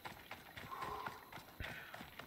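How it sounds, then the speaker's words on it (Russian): Horse hooves clip-clop at a steady walking rhythm in Assassin's Creed Odyssey, close and fairly quiet, with game ambience and faint voices in the background. "Думаю, мы сядем на лошадку."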